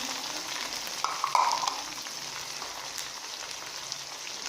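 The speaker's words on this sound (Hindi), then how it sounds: "इसे थोड़ा सा फ्राई करेंगे। अब हम इसमें टमाटर ऐड करेंगे, साथ ही सब्ज़ मिर्ची ऐड करेंगे" Arvi (taro root) and potato pieces fry in hot oil with tomatoes and green chili added, giving a soft, steady sizzle that runs throughout, with a brief louder clatter of stirring partway through.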